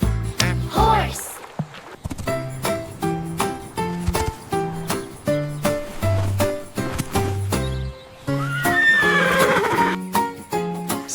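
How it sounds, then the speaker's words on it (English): Horse neighs and whinnies sound against a bouncy children's farm song with music and voices, with clip-clop hoofbeats mixed in. "Horse."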